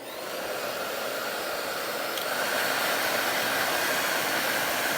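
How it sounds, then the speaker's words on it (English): A hair dryer blows steadily on chalk paint over a clipboard, a loud continuous whoosh that holds constant for several seconds with a slight rise in pitch midway, no voices over it. "I'm gonna grab my blow dryer."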